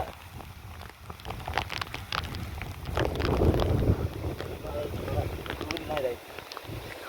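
Strong wind gusts roar into the microphone during a storm on a mountain trek up Velliyangiri, rising and falling steadily, with people talking in the wind.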